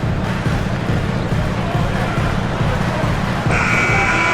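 A loud end-of-quarter buzzer blares near the end of an NBA game between the Los Angeles Clippers and the Brooklyn Nets, cutting through the steady roar of the arena crowd and the commentary.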